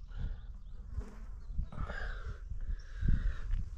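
Flies buzz close around on a hot day at a village farm, their whining drones rising and fading in overlapping passes over a low rumbling background.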